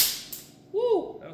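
Compressed air bursts from a leaking air hose reel connection as the hose is detached, a short sharp whoosh that swoops up and down in pitch after some faint handling noise.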